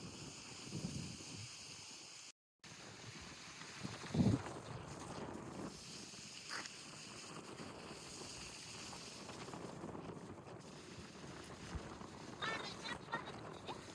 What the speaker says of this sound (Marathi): जाते लई बघ कसं वारं सुटते